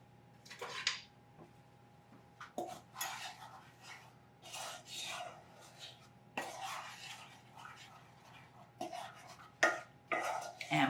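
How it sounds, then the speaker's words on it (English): A spoon stirs 1/3 cup of sugar and 1 cup of heavy cream in a pot for crème brûlée, making soft, intermittent scraping and swishing strokes close by, with a few light metallic touches against the pot. "Give it a little stir."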